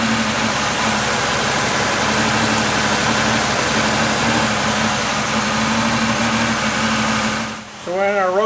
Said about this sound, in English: It's kind of hard to tell on the video, but it's clearly got a misfire.